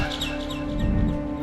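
In the horror game Garten of BanBan 6, a bird chirps in a quick run of short, bright tweets over a steady humming background, fairly faint and with no voices.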